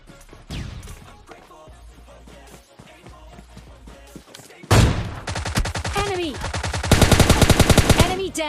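Gunfire in the mobile shooter PUBG Lite, where an AWM sniper rifle is fired: quiet scattered sounds give way to a sudden loud blast, followed by a dense, rapid string of sharp shots near the end.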